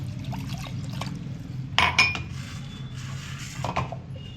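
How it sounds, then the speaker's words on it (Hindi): Water sloshes and swirls inside a mixer jar with leftover spice paste, with a few clinks and knocks against the sides, close and fairly quiet. "अभी थोड़ा पानी इसमें डाल के घुमा लूँगी मैं"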